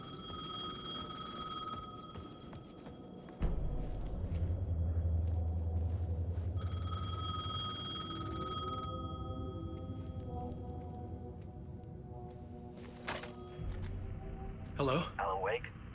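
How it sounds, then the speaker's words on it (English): A payphone rings in the video game Alan Wake 2, with steady electronic ringing tones over a low rumbling bed for about nine seconds. The ringing then gives way to quieter game sounds, and people talk through parts of it. "The payphone was ringing."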